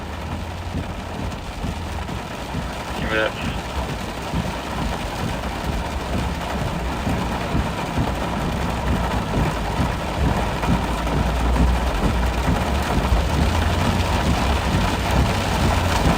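A heavy rain downpour drums steadily as a loud, dense hiss that slowly builds in strength, with a brief spoken voice partway through.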